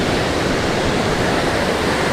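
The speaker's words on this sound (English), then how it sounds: "Remember to use those waves." Surf rolls steadily onto Muriwai beach in New Zealand as a loud, continuous wash of white noise with no break and no voices.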